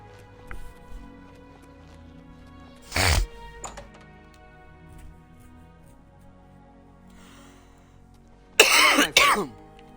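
A person coughs while playing Oblivion Remastered: one sharp cough about a third of the way in, then a quick double cough near the end, over quiet game ambience and hum.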